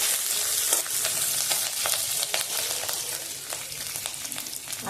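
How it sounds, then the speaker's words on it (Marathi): Green chillies and curry leaves stirred in a frying pan for upvas bhagar, with steady close sizzling and scraping stir strokes throughout, no talk. "चांगल्या मिक्स करून घ्यायच्या।"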